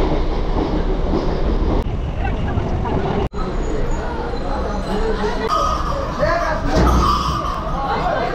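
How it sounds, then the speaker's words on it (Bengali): A Tarakeswar-bound train rolls into a station with a loud steady rumble and wheel clatter, while a crowd of passengers talks and bustles close by. "ঢুকে গেছে আমাদের ট্রেন তারকেশ্বর।"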